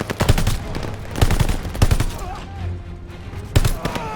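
Machine gun fire in the World War II shooter Call of Duty: Vanguard during a battle around half-tracks, loud rattling bursts and sharp shots in quick clusters, with other battle noise between them.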